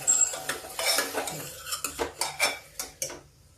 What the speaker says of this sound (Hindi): अब इस मसाले को भूनते हैं।